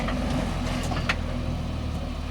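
A Jeep Rubicon's engine rumbles at a low idle and lifts slightly while the vehicle backs up a waterfall, sounding close over faint background noise.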